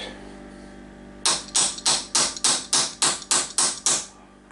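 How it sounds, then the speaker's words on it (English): Ten sharp metallic strikes of a brass hammer on a rusty moped engine in a steady rhythm, each ringing briefly, loud and close against a quiet background. "I'm just going to use a brass hammer."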